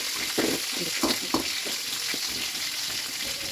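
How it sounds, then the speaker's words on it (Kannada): Green chillies roasting in a pan on the stove, giving a steady soft sizzle and frying crackle with a few brief stirring scrapes, close by and without talk. "ಸ್ವಲ್ಪ ಅದೆಲ್ಲ ರೋಸ್ಟ್ ಆಗಲಿ. ಆಮೇಲೆ ಮೆಣಸಿನ್ಕಾಯಿ ಹಾಕ್ತಾಯಿದ್ದೀನಿ"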